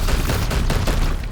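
Dense, overlapping gunfire in the Warhammer 40k: Chaos Gate Daemonhunters video game forms a loud, continuous rattling burst that fills the whole short moment.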